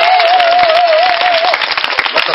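A church congregation claps and cheers for Jesus, loud sustained applause with a bright whistle-like tone riding over it for the first part, then continuing as steady crowd clapping.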